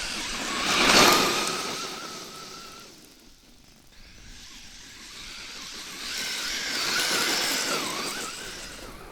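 Traxxas Maxx RC car on 6S power with 3.8-inch paddle tires, driven at full throttle in sand, makes a high electric whine that swells close, fades, then rises again over gritty spray.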